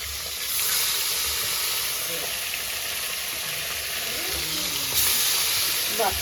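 Fish frying in hot oil in a pan, a steady broad sizzle with bubbling and light stirring throughout, swelling slightly near the end, with faint talk in the background.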